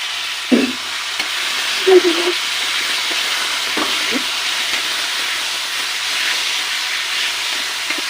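Cabbage leaves sautéed and stirred in a pan after onions, giving a steady sizzling hiss with a few scraping stirs near the start and around two and four seconds.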